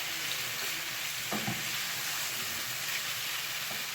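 Meat cooking gently over low heat in a pan for homemade kebab, a steady soft sizzle and hiss throughout with a couple of faint utensil knocks, no voices.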